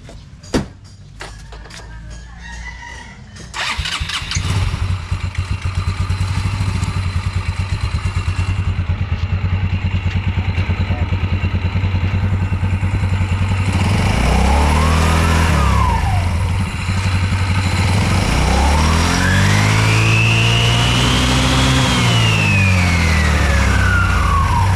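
A Yamaha Mio Sporty scooter engine runs after a pump belt replacement, idling with a steady close drone before being revved twice, each rising to a whining peak and falling back.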